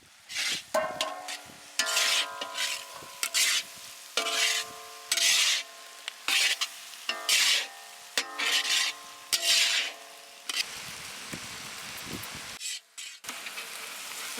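Chopped tomatoes hit hot oil in a home kitchen pan while cooking chole, with rhythmic scraping and stirring strokes over a soft, steady sizzle. It sounds close and moderately quiet, with no talking.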